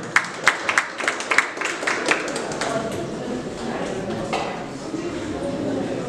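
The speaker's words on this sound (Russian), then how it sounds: "Поддерживаем аплодисментами боксера" Applause for a boxer at a boxing final award ceremony, starting as scattered individual claps and building into steady crowd clapping in a hall, with an announcer speaking alongside.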